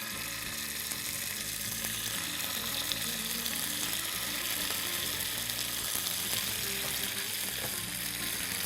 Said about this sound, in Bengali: এরপরে সাবধানে কাবাবগুলো দিয়ে দেব।